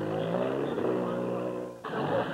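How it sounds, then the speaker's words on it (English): Rally cars are flagged off one by one at the 1979 Safari Rally, and a close engine revs with rising pitch, cuts off, then another engine note picks up. "Cars are started one after the other, with a two-minute interval between."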